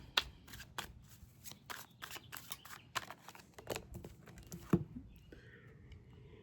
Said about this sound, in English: we're going to pull a card from the Love and Money deck